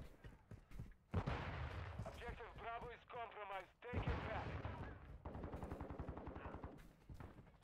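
Video game gunfire from Modern Warfare 2, with clattering bursts of shots running through most of the stretch alongside continuous game sounds, while a voice speaks over the action.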